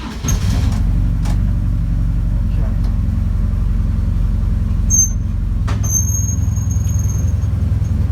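Hillman Imp race car fitted with a BMW R1150 motorcycle engine, driven slowly on its first run with engine mounts missing, giving a steady low engine drone throughout with a brief squeal near the end.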